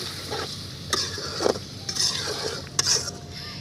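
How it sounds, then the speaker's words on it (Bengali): Chicken with spices stirred in a pan, a close scraping of a utensil against the metal with occasional clinks over a faint steady sizzle, with no talk. "এখন আবারও একটু নেড়ে দিচ্ছি"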